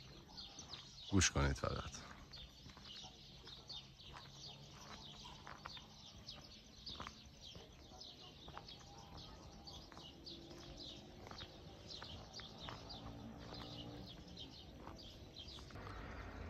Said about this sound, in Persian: صدا پرنده هم